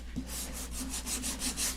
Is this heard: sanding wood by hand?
yes